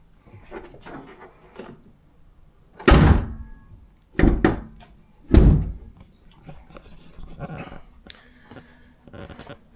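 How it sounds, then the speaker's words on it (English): Car hood being shut during winter storage prep, a couple of heavy metallic thunks close by, with quieter handling knocks and rustling between them and no talk. "I can close the hood on it."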